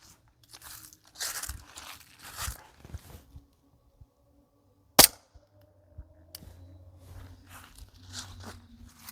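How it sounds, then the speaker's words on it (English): An airsoft Glock 17 Gen 5 pistol fires a single BB, one sharp crack midway through an otherwise quiet stretch of faint rustling and handling noise. "I fired 1 shot, and that BB flew straight until I couldn't see it anymore"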